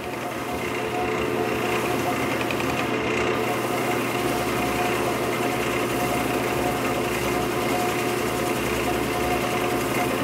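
Wood lathe turning at its slowest setting, about 630 RPM, while a finish is worked on with a cloth: a steady, continuous motor hum with a faint rubbing hiss, constant and close throughout.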